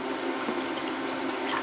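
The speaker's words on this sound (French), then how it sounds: "Je commence par mettre un petit peu d'eau." A little water is poured into a bowl in a home kitchen while chicken thighs in sauce are being made, giving a steady, close, continuous trickle with no talking.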